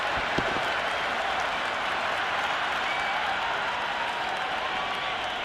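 A stadium crowd in the cricket game Cricket 26 applauds and cheers after a six, a steady, dense wash of clapping and crowd roar held at even loudness throughout, with no clear commentary on top.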